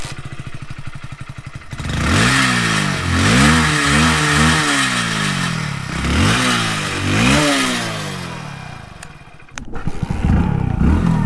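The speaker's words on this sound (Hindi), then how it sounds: "इसका एग्जॉस्ट नोट सुन लेते हैं" Hero HF 100 motorcycle engine revving close by, its exhaust note rising and falling through several throttle blips over a steady idle, with a brief clatter near the end.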